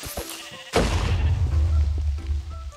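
A Minecraft sheep bleats in short game-sound calls, with a sudden thud partway through and low rumbling game ambience continuing underneath.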